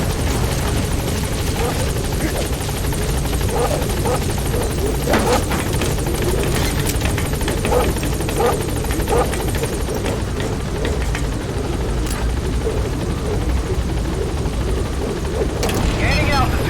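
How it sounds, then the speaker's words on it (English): A support helicopter in a video game arrives and hovers, its steady rotor roar filling the scene continuously, with a few sharp clanks and bangs rising over it and a voice talking in places. "Support helicopter has arrived."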